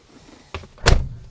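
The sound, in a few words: closing the door of a 1980 Mercedes W123 300D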